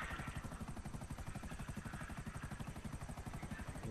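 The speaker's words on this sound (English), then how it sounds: "If I'm not flying the fucking helicopter drunk." A helicopter in the video game GTA 5 flies with a fast, steady rotor chop and engine whine, evenly pulsing and continuous, fairly quiet in the mix with no talk.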